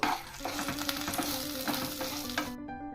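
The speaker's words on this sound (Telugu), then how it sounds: "తగిన వెల్లుల్లిపాయలు వేసుకుని వేయించుకోవాలి." Garlic sizzles and crackles loudly in hot oil for a few seconds, with a few stirring scrapes, then the sizzle cuts off abruptly.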